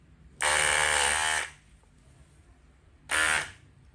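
An electric dreadlocks machine buzzes in two bursts, a longer run of about a second and then a shorter one, with a bright, harsh whine close by and near silence between the bursts.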